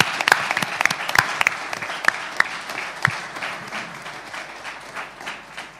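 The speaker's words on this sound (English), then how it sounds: "Big round of applause for Phil Le Greco's head trainer" Applause at a boxing press conference for trainer Fernando Vargas, a modest crowd clapping with sharp individual claps standing out early, then tapering off.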